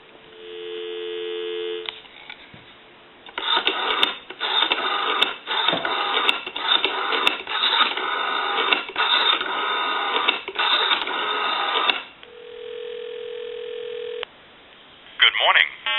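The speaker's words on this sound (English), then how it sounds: "give you some dial tone." A Western Electric 500 rotary desk telephone gives a steady dial tone, followed by a long stretch of buzzy, pulsing line noise and clicks, then the tone returns briefly before more crackle, all heard close through the line.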